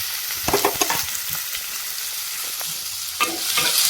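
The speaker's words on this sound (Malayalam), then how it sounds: "അതിലൊന്ന് നന്നായി ഒന്ന് ഇളക്കി കൊടുക്കണം." Onions, curry leaves and green chillies sizzle loudly in coconut oil for a prawn curry, with a spoon scraping and stirring through the pan in steady, repeated strokes; no voices.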